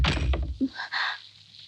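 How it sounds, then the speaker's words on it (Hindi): A door is shut indoors in a dramatic scene, giving a single dull thunk partway through, preceded by low rumbling movement and followed by a quiet room with faint hiss. "आपने दरवाजा क्यों बंद कर दिया?"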